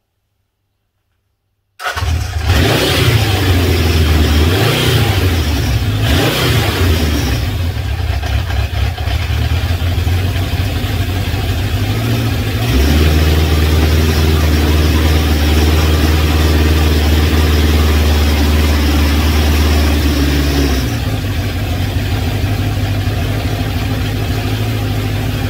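A Honda CB750 K2 motorcycle engine cranks on the electric starter, catches and fires up, then settles into a loud, steady idle with a few revs early on and a slight drop in pitch partway through.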